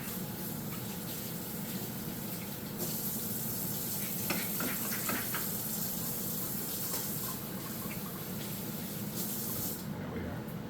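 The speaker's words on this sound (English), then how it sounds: "Give our hands a quick wash." Tap water runs steadily into a kitchen sink as hands are washed while cooking leek and potato soup, a continuous broadband hiss that carries through the whole stretch.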